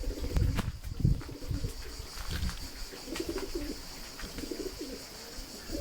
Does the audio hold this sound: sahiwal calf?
no